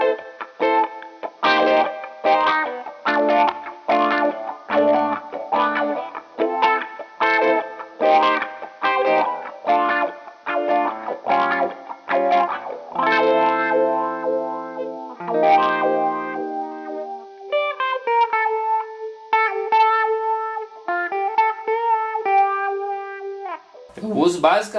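Electric guitar played through a flanger pedal on a 2020 pedalboard, heard alone with no talk: close, loud strummed chords, then sustained notes ringing out with a swirling, sweeping modulation.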